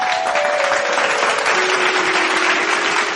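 Loud, steady audience applause fills the whole stretch as a popular Odia singer is welcomed onto the stage of a devotional concert, with a faint held tone running underneath.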